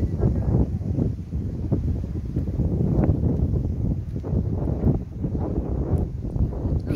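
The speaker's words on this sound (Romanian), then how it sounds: "Cam bate vântul la noi aici." Wind gusting across an open fish farm lake, a steady broadband rush buffeting the microphone continuously throughout, fairly loud and close, with no clear talk over it.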